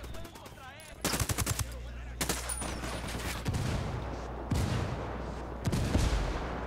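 Rapid bursts of gunfire in a chaotic multiplayer shooter match, including a mortar firing, with sharp repeated cracks and booming impacts spread across the clip.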